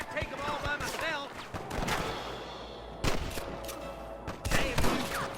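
Gunfire in the western video game Red Dead Redemption during a shootout with rustlers: repeated sharp shots crack across the scene among hoofbeats and game noise, with voices talking between bursts.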